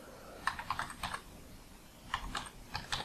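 A username being typed on a computer keyboard: two quiet bursts of quick, irregular key clicks separated by a short pause, with no talking.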